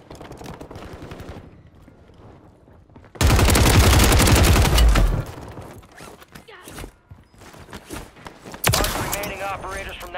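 Gunfire in the video game Warzone 3, a loud burst of rapid automatic shots in the middle and another near the end, with someone talking over quieter stretches before and between.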